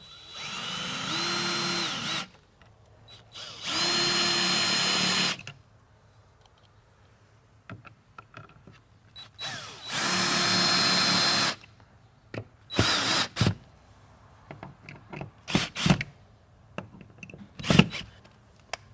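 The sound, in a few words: power drill driving screws into a wall-mounted pump back plate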